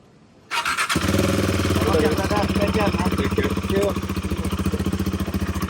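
A KTM Adventure 390 motorcycle starts up and pulls away, its engine rising to a loud, steady roar close by with a rapid pulsing exhaust note that carries through to the end.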